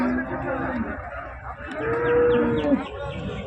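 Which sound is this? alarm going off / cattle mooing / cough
cattle mooing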